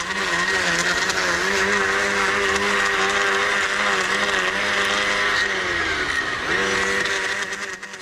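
A battery-powered lawn edger runs continuously at a high, steady whine, loud and close, with a brief dip and recovery in pitch near the end as the blade takes the load.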